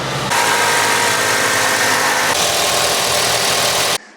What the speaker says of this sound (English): The truck seems like it's running good.